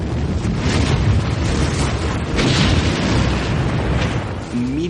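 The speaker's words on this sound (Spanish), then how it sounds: "Los gases atrapados en el interior escapan y provocan una explosión." A deep, rumbling roar like a sustained explosive outburst, loud and continuous with gusty bursts, ending with a faint low tone.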